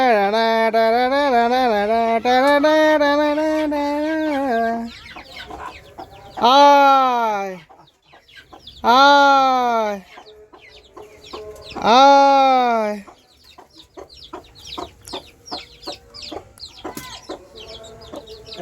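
Chickens on a poultry farm cluck in several loud, harmonic bursts, with quieter scattered clucks and rustling between them, close to the listener and with no talk.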